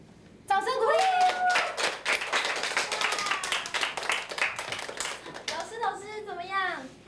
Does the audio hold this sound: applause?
yes